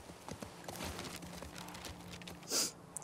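Horse hooves clip-clop at a steady walking pace in The Last of Us Part II, soft and fairly close, with a snort or breathy exhale near the end.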